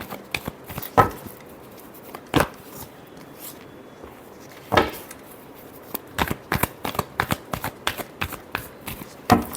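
Tarot cards being shuffled by hand: a run of crisp, papery riffles and snaps close up, bunched in quick bursts with short pauses between them, and no voice.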